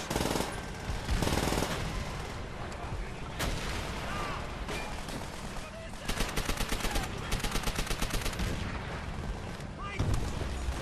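Rapid automatic gunfire from a notoriously fast-firing weapon in Call of Duty: World at War, dense bursts cracking in quick succession with a sustained stuttering run near the end, layered over busy battlefield noise.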